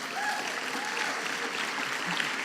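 A church audience applauds the Fairborn launch team, a brief steady wash of clapping filling the room at moderate level with no voices over it.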